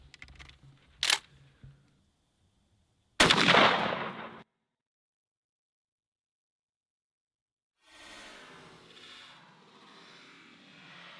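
A Franchi Affinity 3 shotgun fires one sharp, loud blast at a mallard decoy 20 yards away. A smaller knock comes first, then silence, and faint rustling follows later.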